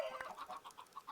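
Chickens in a Minecraft game give soft, steady clucks, about one every tenth of a second, under a low hiss.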